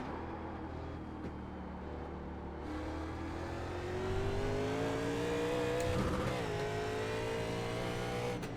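A NASCAR stock car in a racing video game, its engine droning steadily then climbing in pitch as the throttle opens, with a brief tire squeal mid-run and no talk over it.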